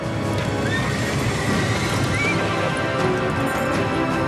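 Dense, loud scene of horses neighing over steady clip-clopping hooves, with several whinnies rising above a continuous background din.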